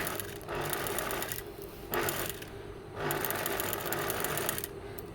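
A sewing machine stitches the sleeve of a doll's shirt in close, steady mechanical bursts. A short pause separates each run of whirring stitches.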